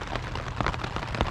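Rain pattering on a tent at a roadside camp near Echo Bay on the eastern shore of Lake Superior, a dense steady hiss of drops heard up close with no voices.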